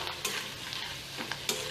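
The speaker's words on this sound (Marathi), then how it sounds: "तेलामध्ये मी आता हे थोडे कॉर्नफ्लेक्स घालणार आहे आणि छान असे कुरकुरीत तळून घेणार आहे" Corn flakes fry in hot oil, giving a steady close sizzle broken by a few sharp crackling bursts as they crisp, with no voices.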